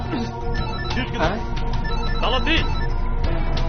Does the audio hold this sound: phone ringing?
yes